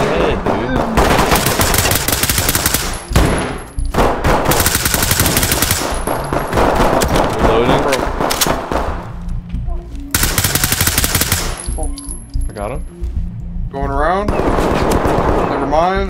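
Rapid bursts of automatic gunfire in the tactical shooter Ready Or Not, loud and near, with long sustained volleys and short gaps, under excited talk from players.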